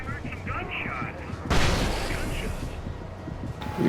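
Gunfire pops off in Alan Wake Remastered, a sudden loud burst of booming shots over game ambience, while a voice talks over the action.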